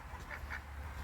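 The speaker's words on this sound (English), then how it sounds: "Our ducks stay in this one" Ducks in their farm pen give a few soft, nasal quacks close together over a steady low background hum.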